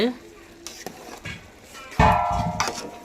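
Chicken biryani with ghee is stirred lightly in a cooking pot, giving short scraping and clinking strokes of a spoon against the pot, with a louder burst of stirring near the end.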